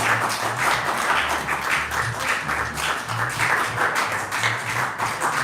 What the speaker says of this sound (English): Let's give both a round of applause.